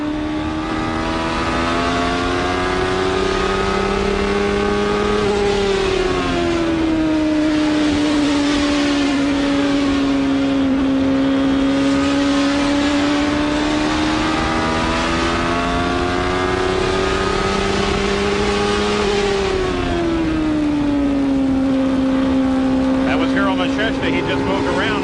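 A 1994 CART IndyCar race car engine screams at full volume during the Milwaukee oval race, its steady high-pitched whine dipping and rising twice as the driver lifts and reapplies the throttle through the turns.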